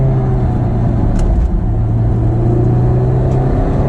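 Honda S2000 engine revs hard toward its VTEC crossover at about 6,800 rpm, a loud, sustained in-cabin engine drone with rising, steady tones and no talk.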